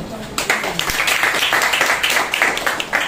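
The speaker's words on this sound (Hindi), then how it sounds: "एक जोरदार ताली बजाइए" Applause from a congregation at a Wednesday church service, a brief burst of clapping with a voice talking over it close to the microphone.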